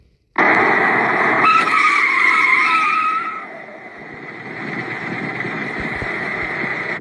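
A car skids hard to a stop on a road near the Grand Canyon, a loud tire squeal lasting about three seconds before settling into steady road and engine noise.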